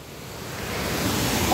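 A waterfall near a lake pours with a constant broadband rush, loud and close, swelling slightly toward the end, with no voices.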